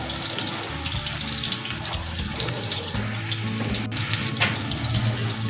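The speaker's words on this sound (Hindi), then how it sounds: "अब 1 किलो पानी इसके अंदर मैं और ऐड करूँगी।" Water running steadily into a yogurt and gram flour batter for Pakistani kadhi, a continuous close splashing, pouring wash with faint sizzling-like texture and no talking.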